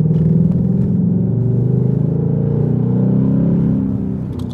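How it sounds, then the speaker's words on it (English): A car engine runs with a deep, loud rumble close by, holding a steady revving drone that eases off slightly near the end, with no voices over it. "Can you guys hear the engine?"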